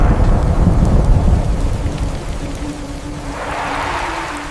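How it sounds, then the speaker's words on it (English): A low, rolling rumble of thunder over steady rain, loud at first and fading, with the rain's hiss swelling again toward the end. "There was a thunderstorm that night."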